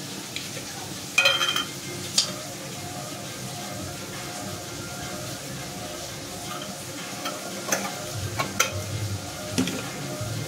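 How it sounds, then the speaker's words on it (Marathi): Turmeric is stirred into hot oil in a pan while making a yellow-masala brinjal dish. A soft, continuous sizzle runs throughout, broken by a few sharp spoon clinks against the pan. "पण आता आपण याच्यामध्ये हळद टाकून घेऊ पहिले"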